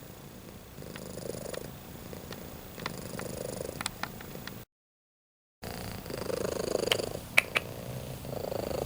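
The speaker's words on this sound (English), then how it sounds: "Look at this little baby cat" A small kitten purring close up, a steady soft rhythmic rumble broken briefly by a gap, with a few faint clicks over it.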